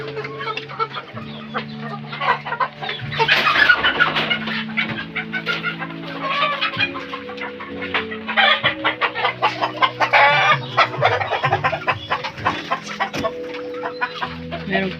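Many chickens, including young fighting-cock stags and hens with chicks, cluck and squawk continuously close by, with roosters crowing at intervals in a busy farmyard chorus.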